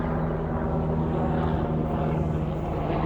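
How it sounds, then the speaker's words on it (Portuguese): A propeller airplane drones overhead outdoors, a steady, loud engine hum with a strong low tone that holds evenly without fading. "Tem um avião vindo ali fazendo barulho."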